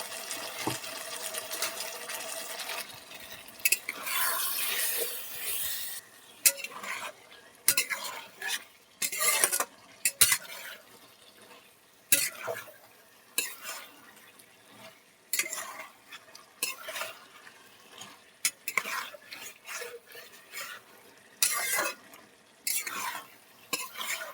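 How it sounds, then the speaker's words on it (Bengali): Beef curry with potatoes, tomato and ginger paste is stirred and sautéed in a pot, with repeated scraping strokes and a soft sizzle in uneven bursts over steady low cooking noise. "ঢাকনা খুলে আমি কষিয়ে নেব।"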